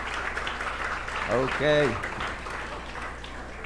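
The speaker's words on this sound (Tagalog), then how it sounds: "Palakpakan naman natin si Jesus." A church congregation claps together during a Sunday service in praise of Jesus, steady applause filling the room while a voice speaks briefly over it.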